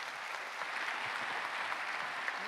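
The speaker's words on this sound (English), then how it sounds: "Let's give them a huge round of applause." Steady applause from a large audience at a blockchain conference event in Paris, a dense even wash of clapping heard at moderate distance, with no talk over it.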